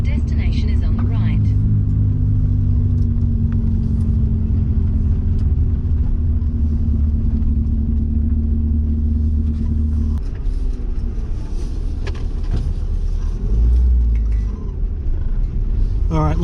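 A Mazda 323 Familia with a turbo and a newly fitted turbo dump pipe drives along with a loud, steady engine rumble that shifts in tone partway through, and a voice talks over it.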